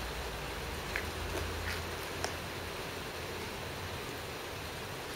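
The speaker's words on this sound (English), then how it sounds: "It's raining." Steady rain falls at a railway station in Cardiff, a soft continuous hiss with a few faint clicks, no voices.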